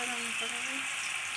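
Potatoes frying in oil in a wok, giving a steady, close hiss of sizzling with a faint voice underneath.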